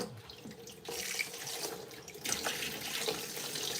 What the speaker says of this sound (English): I love kitchen mixer taps.